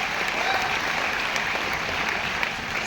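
An audience at a meeting claps steadily and densely, a sustained wash of applause filling the whole moment at even loudness.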